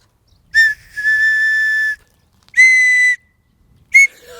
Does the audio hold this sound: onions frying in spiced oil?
no